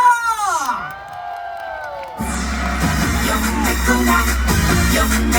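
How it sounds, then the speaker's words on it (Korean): A festival crowd erupts into cheering, whoops and clapping after a brief musical fade, loud and sustained in an outdoor stage setting, with a voice shouting over the noise. "여러분의 함성 박수 주세요!"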